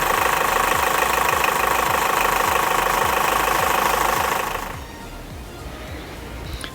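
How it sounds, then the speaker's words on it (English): Unimog 411 with a 32-horsepower inline four-cylinder OM636 diesel idling, a close, steady knocking chug with clear rhythmic pulses before it drops to a quieter level near the end. "it's got a 32 horsepower inline 4 diesel motor."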